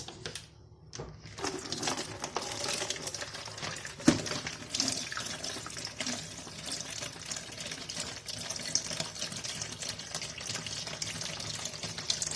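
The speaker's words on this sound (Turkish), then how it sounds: "zeytinimi tatlandırmak için önceki suyunu boşaltacağım" Brine drains from a jar of olives being sweetened, a steady close trickle and splash of running liquid that continues without a break, alone and fairly quiet.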